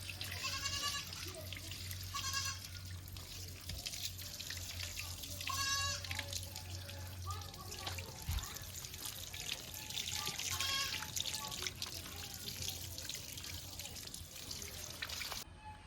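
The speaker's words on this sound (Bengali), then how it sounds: "এবার গোটা এঁচড়টা ভালো করে ধুয়ে নেব" Raw jackfruit is washed under running tap water in a sink, giving a continuous close splash and trickle with intermittent sloshing and handling noises throughout.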